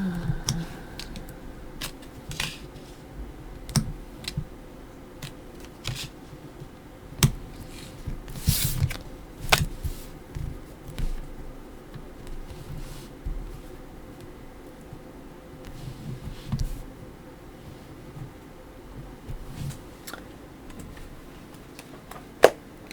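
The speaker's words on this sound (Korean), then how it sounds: "타로 카드 열어볼게요" Tarot cards being shuffled and laid out on a table, soft scattered flicks, taps and clicks coming close and faint over a quiet background.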